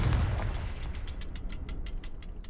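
A Confringo blasting curse goes off in Hogwarts Legacy with a heavy low boom at the start, followed by a trail of rhythmic, evenly spaced crackling pops as the blast fades.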